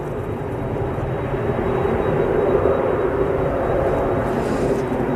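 Aer Lingus airliner in old livery on approach to Manchester Airport runway 05R in early morning, a steady broad jet roar that holds loud and constant throughout without talk.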